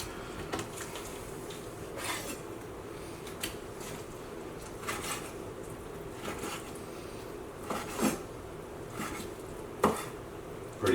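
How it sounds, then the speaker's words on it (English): A knife cuts wild turkey breast into bite-sized pieces, with soft, scattered taps and thuds on a board at an irregular pace against a quiet background. "What I'm going to do is just cut these up into little like 1-inch"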